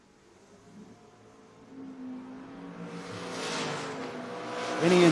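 A 1966 Chevy Nova drag car with an LS engine racing at a door car drag event, a distant engine roar swelling steadily louder and nearer over several seconds to a loud pass at the end.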